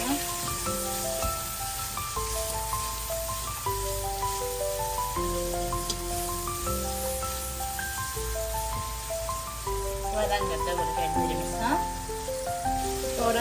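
Onions sautéing in a pan for chicken noodles give a steady, soft sizzle that runs the whole time beneath melodic background music.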